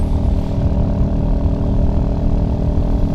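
A Royal Enfield Hunter 350 motorcycle accelerates on a test ride as the throttle is twisted, giving a loud, steady engine drone with dense low rumble and wind noise throughout, no voices.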